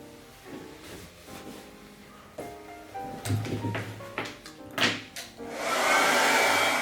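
A hair dryer dries a layer of varnish on a painted background, with some faint handling taps and knocks before the dryer's loud steady whoosh takes over near the end.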